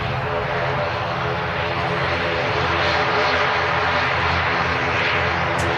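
An ATR turboprop taxis slowly at Manchester Airport, its engines giving a loud, continuous droning hum with a steady propeller whine that holds throughout without pause.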